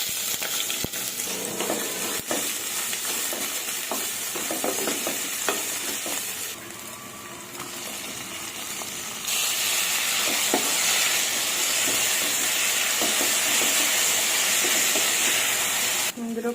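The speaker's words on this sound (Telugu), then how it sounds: "ఇందులోకి ఉల్లిపాయలు, టమాటా, పచ్చిమిర్చి, కరివేపాకు, ఇంకా కొంచెం అల్లం వెల్లుల్లి పేస్ట్ కూడా వేసుకొని ఫ్రై చేసుకుందాం" Onions, tomato, green chilli, curry leaves and ginger-garlic paste fry in oil for a broccoli dish, a loud continuous sizzle and hiss with occasional stirring scrapes, close up, swelling louder partway through.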